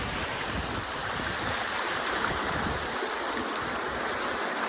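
Floodwater from unseasonal rain rushes across farmland in a continuous, dense roar, close and steady with no pauses.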